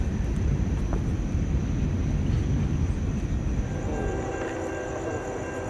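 A freight train rolls slowly into a siding late at night in Bushnell, Florida, giving a steady, loud low rumble of rail cars that continues throughout with no voices.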